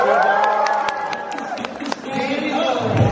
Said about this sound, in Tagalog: Isang malakas na palakpakan na may kasamang sigawan.